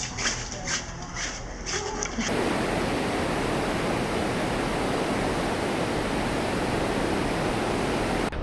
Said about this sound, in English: We've just had a heavy downpour of rain and the creek has come up.